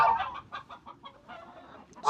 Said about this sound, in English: Stupid geese here on the farm.